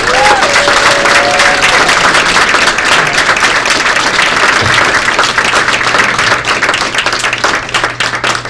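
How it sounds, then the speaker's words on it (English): A lecture audience in Stockholm claps loudly for the organizers, a dense sustained round of applause that stays strong and slowly tapers toward the end, with a brief whistle-like tone near the start. "give a round of applause to all the organizers who made this happen"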